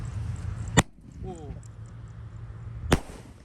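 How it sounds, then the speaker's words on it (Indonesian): Firecrackers set off inside a red barrel, two sharp loud bangs about two seconds apart, with a low steady hum and faint chirps between them. "Langsung saja kita nyalakan ini guys, mercon di dalam tong."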